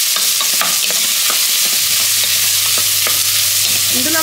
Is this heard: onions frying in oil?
yes